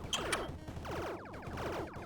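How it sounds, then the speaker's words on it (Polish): Short rising electronic sweeps repeat several times in quick succession, a synthetic charging-up effect of a shield recharging in the video game Nebulock, fairly quiet and without speech. "to był dźwięk naładowania chyba tarczy"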